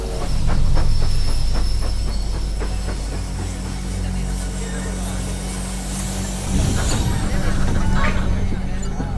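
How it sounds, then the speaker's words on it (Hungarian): A train at Doncaster railway station, a steady low rumble with hiss and rhythmic rail clatter in the opening seconds, continuous and fairly loud, with a swell near the end. "Doncasteri vasútállomás!"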